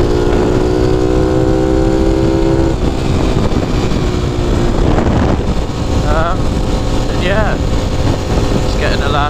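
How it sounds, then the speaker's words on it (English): A Honda Cub motorcycle rides along with a steady, droning engine note that rises and settles, heard close under heavy wind buffeting against the microphone. A voice is faintly present. "having another little test ride on a bike"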